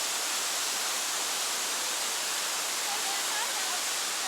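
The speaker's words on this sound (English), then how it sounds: "Just another stunning waterfall." Waterfall in the jungle, a loud, steady broadband rush of falling water that fills the whole stretch without a break.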